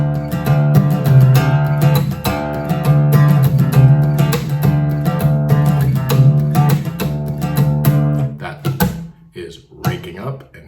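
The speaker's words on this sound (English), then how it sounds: "makes the sort of percussive sounds with his pick hand" Close acoustic guitar in drop D plays a song intro with pick-hand string rakes and palm slaps, giving muted percussive thumps between ringing strums, sharper hits toward the end.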